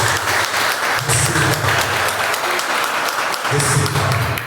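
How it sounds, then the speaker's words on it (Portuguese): A church congregation claps steadily in a dense, loud ovation that fills the room. The applause is continuous, with a voice carrying faintly beneath it. "Uma salva de palmas para Jesus."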